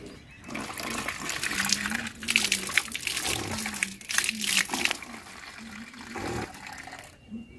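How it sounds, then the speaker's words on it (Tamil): Water poured out onto the ground at home splashes and gurgles steadily in close bursts, with a voice talking over it. "இப்ப தண்ணிய கீழே ஊத்துறேன்"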